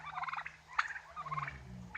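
A turkey gobbles near a nest hidden in bushes, a quick warbling gobble call heard fairly close over faint background hum, no voices.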